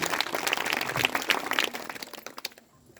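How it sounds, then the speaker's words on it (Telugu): Church audience clapping together in a dense burst of applause that thins out and fades near the end. "నమ్మిన వాళ్ళు చప్పట్లు కొట్టి యేసుని కనపరచండి"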